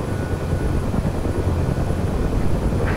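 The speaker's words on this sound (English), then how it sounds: "within moments his helicopter lifted its weight off the metal top of the landing pad" A UH-1H Huey helicopter in the DCS flight simulator lifts off from a metal landing pad, its engine and rotor making a loud, steady, low droning throb with no voices.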